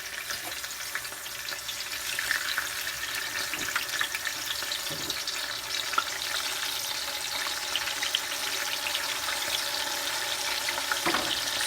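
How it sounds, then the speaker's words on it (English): Bass and bream fillets fry in hot oil with a steady, close crackling sizzle, joined by a faint watery hiss and the odd soft clink. "So I'm gonna let this fry for about 5 to 10 minutes on each side until it's golden brown"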